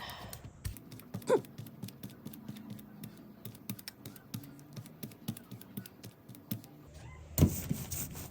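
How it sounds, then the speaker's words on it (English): A brayer roller spreads paint across a gelli printing plate in repeated close, tacky rolling passes, ending with a sharp louder knock. "Spread my paint."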